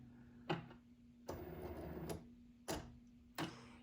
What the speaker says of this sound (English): This is the Cricut Maker 3. And it's just deciding where to start cutting.